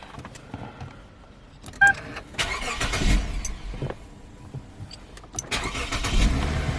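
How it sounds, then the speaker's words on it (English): A car engine cranks and turns over, followed by a steady idle with some clicks and jangling nearby; no talking. "I'm going to start the car."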